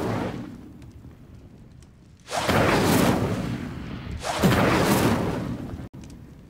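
Incendio fire spell cast in the video game Hogwarts Legacy: two loud, roaring whooshing bursts of flame, each swelling suddenly over a quieter background and lasting about two seconds.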